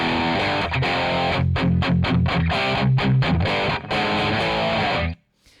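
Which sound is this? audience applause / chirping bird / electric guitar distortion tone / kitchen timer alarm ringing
electric guitar distortion tone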